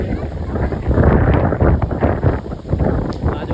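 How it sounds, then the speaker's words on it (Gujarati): Strong gusting wind at the first rain of the season in Rapar, Vagad, strong enough to blow loose tin roof sheets off nearby shops; a loud, continuous roar of buffeting wind on the microphone that swells and dips with no clear pauses. "આજુબાજુ વાળાના બિચારાના પતરા ઉડી જાય એટલો પવન છે ખરેખર"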